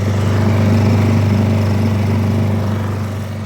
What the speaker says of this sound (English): This is currently at tick over. This is the speed for starting the engine